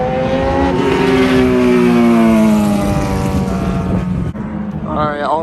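Drift cars rev and scream at a grassy drift event, a loud continuous engine whine with rising and falling pitch sweeps, ending in a short high rev burst.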